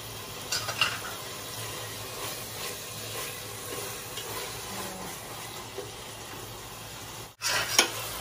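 Hotdog slices and liver spread sautéing in a pan for budget spaghetti sauce, a constant sizzling hiss with occasional stirring clatters and a louder scrape near the end.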